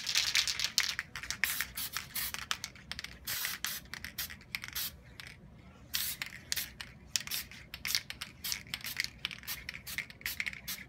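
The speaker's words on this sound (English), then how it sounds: "Let's spray that a little bit." Repeated short hissing bursts of a spray paint can, close and fairly loud, starting and stopping in an uneven rhythm with brief pauses between sprays.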